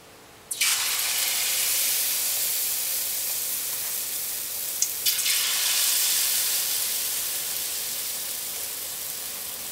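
Banana fritters dropped into very hot, lightly smoking oil on a high stove, erupting into a loud, steady broadband sizzle that swells again with a second drop midway and keeps hissing to the end.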